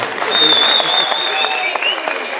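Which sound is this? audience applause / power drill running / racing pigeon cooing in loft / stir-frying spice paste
audience applause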